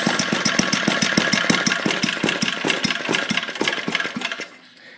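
A small gasoline engine on a garden tiller putters at a low idle with a steady, rapid knocking rhythm, loud and close, fading slightly near the end.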